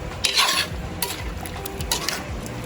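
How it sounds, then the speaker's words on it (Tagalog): A spoon stirs pork dinuguan with chicken feet and tomato sauce in a pot, Kapampangan style, giving close scraping and clinking strokes with faint sizzling beneath and no talk. "Mix lang natin."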